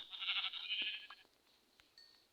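A Minecraft sheep gives a single nasal bleat, loud and close at first, then tapering off into faint clicks and a short tone.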